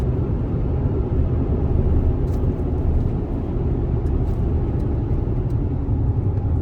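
Steady low pickup truck engine rumble with a constant vibrating drone from a bad torque converter clutch shaking the truck, loud and close, continuing without change and with no talking.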